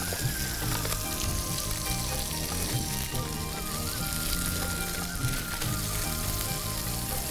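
A kebab roll frying in a hot pan gives a steady, dense sizzle with crackling spatter, close and continuous throughout, with no voices.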